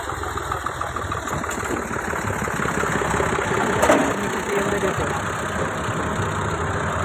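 Tractor engine idling outdoors, a steady continuous rumble running throughout at moderate level, with a brief louder knock near the middle.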